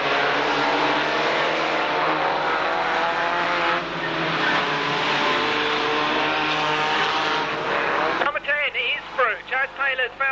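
Racing vans scream past at a Braintree Auto Club meeting in 1991, engines roaring loudly and steadily as they race up the back straight, with a commentator talking over the noise throughout.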